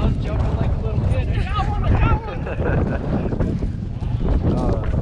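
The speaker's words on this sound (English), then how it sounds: "it's very windy" Strong wind roars and buffets the microphone in a steady, heavy rush during a snow goose hunt, with faint voices murmuring beneath it.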